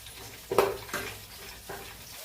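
Chilies and peanuts fry in hot oil for lemon pulihora, giving a few soft bursts of sizzle and stirring over a faint steady hiss, with no one speaking.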